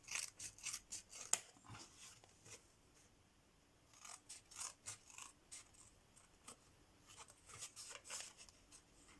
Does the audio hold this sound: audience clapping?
no